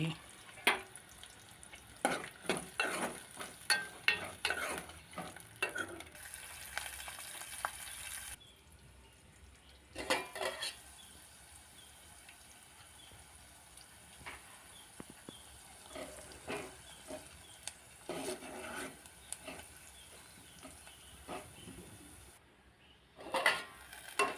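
Green chilies and chopped onion fry in a pan over a low flame, crackling and sizzling softly in steady bursts with occasional stirring scrapes, close by and fairly quiet, with a couple of brief pauses in the sizzle.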